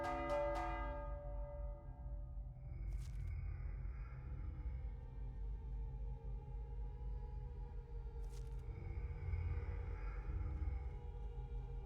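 A bell strikes once in the video game Mindlock and its ringing tone fades over a couple of seconds. A steady low rumble follows, with two brief faint chime-like accents later on and no voices.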